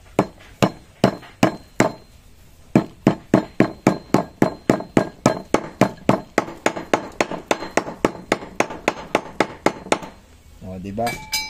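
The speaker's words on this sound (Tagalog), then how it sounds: "Tapos, pupukpukin nyo na ng alalay." A driver is hammered to seat a new oil seal into the front shock of a Yamaha Mio scooter. About thirty sharp metallic taps ring out in a fast, even rhythm, with a short pause early on and a brief voice at the end.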